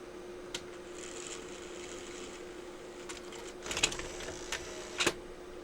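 A Sony BVW65P Betacam SP player's tape mechanism ejects and laces, giving faint, close mechanical whirs and clicks with a few sharper clunks near the end, alone without talk.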